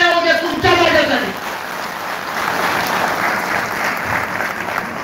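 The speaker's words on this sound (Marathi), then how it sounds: "टाळ्या होऊ द्या तुमच्या माझ्यासाठी." Crowd applause at a World Labour Day gathering: a dense, sustained wash of clapping that runs for several seconds, with a brief voice audible at the very start.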